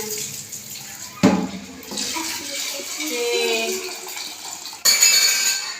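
Rice is washed in a pot of water, with swishing, sloshing water and a faint clink of the vessel, close by and fairly steady.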